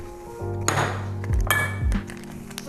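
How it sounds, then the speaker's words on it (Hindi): Ice cubes drop one after another into a glass holding khus syrup, giving a few sharp clinks and rattles with ringing glassy tones, close and clear. "और आइस क्यूब डाल दीजिए।"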